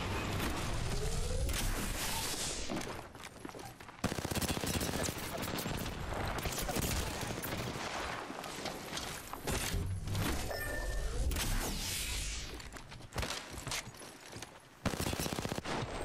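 Dense Apex Legends gunfire, continuous loud automatic bursts with impacts and sharp cracks nearly filling the whole stretch, with a couple of brief breaks and some voices mixed underneath.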